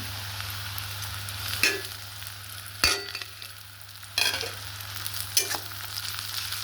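Grated ginger, garlic and three slit green chillies fry with onion in hot oil for a mustard chicken curry, giving a continuous sizzle broken by four scraping stirs of a spatula against the pan.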